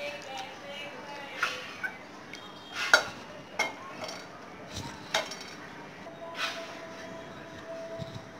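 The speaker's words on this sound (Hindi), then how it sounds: "इसको मसल के हम छन्नी से छान के इसका पानी लेंगे" Soaked kokum being mashed by hand in a bowl of water for Konkani kokum curry, giving soft squelching and sloshing with scattered light clinks of utensils, close and moderately quiet, with no talking.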